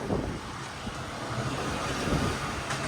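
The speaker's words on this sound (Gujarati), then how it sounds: "આ તો ફૂલ પવન ને ફૂલ મજા આવે" Strong, steady wind roaring and buffeting the microphone without a break.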